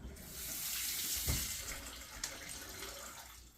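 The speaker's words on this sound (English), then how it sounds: "Wash our hands." Hands are washed under a running kitchen tap while baking a rum cake, a steady close hiss of flowing water with a brief splash partway through and no talking.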